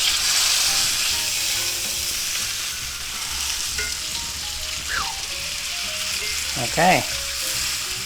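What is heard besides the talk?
chuck steak sizzling in a cast iron skillet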